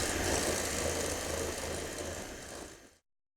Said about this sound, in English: I've whisked the egg whites for about 2 minutes and it's nice and firm